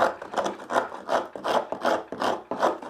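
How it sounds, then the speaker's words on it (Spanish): A hand rasp files the curved edge of a wooden part for a 1950s-style wooden go-kart, in steady back-and-forth strokes, about eight rasping passes close up with no talking. "Con la parte curva de la raspa, la vamos a dar aquí."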